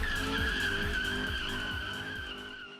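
Race car tyres squeal and skid in a long, wavering screech over a revving engine, loud at first and then fading.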